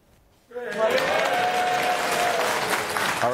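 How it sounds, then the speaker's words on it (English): After a moment of quiet, a tech conference audience bursts into loud, sustained applause mixed with crowd noise, filling the room for about three seconds. "when I point to you, I want you to make a whole lot of noise"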